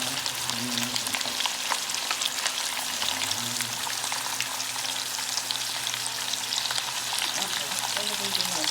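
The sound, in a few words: pork frying in a pan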